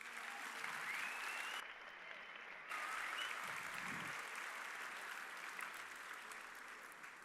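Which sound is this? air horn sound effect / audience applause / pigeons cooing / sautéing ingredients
audience applause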